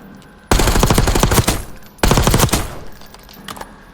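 Machine gun fire at the firing range in Black Ops 6: two loud bursts of rapid automatic shots, each about a second long, with a few faint extra shots and quiet game ambience in between.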